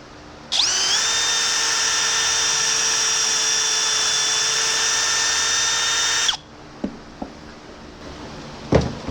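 A Hercules 20V cordless brushless drill spins up and runs in a home shop with a loud, steady high-pitched whine for about six seconds, then stops, followed by a few faint clicks and knocks.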